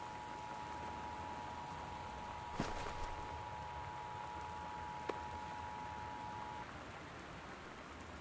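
Torrential rain in the video game Gone Home, a steady hiss of downpour with a faint thunder crack and a sharp click, while a thin electronic tone sustains over the rain before fading out.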